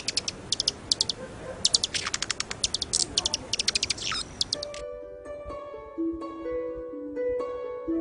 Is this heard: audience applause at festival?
no